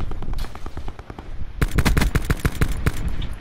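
Rapid automatic gunfire crackles in a Call of Duty Black Ops 4 Blackout battle royale match, scattered shots first, then a dense, loud burst of fast repeated cracks lasting nearly two seconds.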